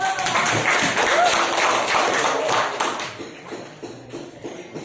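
Applause from students in a classroom guidance lesson after a group presentation, a few seconds of lively mixed clapping that tapers off into scattered claps and room noise.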